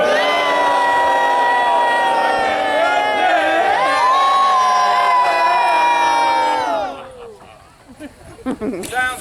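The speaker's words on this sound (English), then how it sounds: "Sounds like a good crowd." A large theater audience cheers and whoops loudly for several seconds, then the noise drops off abruptly into scattered quieter sounds.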